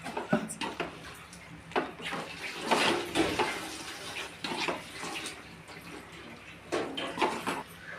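Water is poured into a pan of restaurant-style chicken curry, making an uneven splashing, gurgling rush with several louder surges, close by and with no talk.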